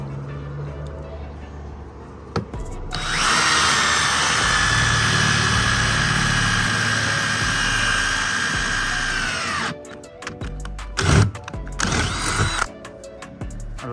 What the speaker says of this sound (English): At 32 inches is where we're going to drill these right here.